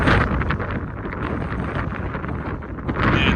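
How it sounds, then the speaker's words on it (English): Steady, loud wind buffeting the microphone on a volcanic crater rim at Lassen, a continuous broadband roar that surges slightly at the start and end, with no voices. "Still pretty windy"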